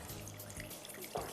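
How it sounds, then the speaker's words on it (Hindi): Water poured into a pan of garlic, flour and milk sauce, a short steady pour lasting just over a second, close and moderately loud with a brief splashy burst at the end. "1 कप दूध डाला है और तकरीबन आधे कप से थोड़ा सा ज़्यादा मैं इसमें पानी डालूंगी"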